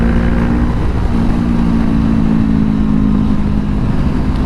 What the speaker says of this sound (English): I love how this sounds as well with the full exhaust on it